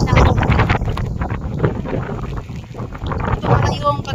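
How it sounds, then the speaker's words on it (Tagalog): Strong typhoon wind from Typhoon Uwan roars and buffets a microphone outdoors in the Philippines, gusting loudly and unevenly throughout, with a voice faintly present under the roar. "Pero sobrang lakas na ng hangin."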